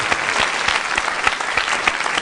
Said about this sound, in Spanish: Aplaudille un poco más, a ver si nos llega más el contrato.